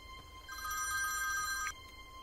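A telephone bell rings late at night, one burst of about a second with a bright, clear trill heard over faint room noise.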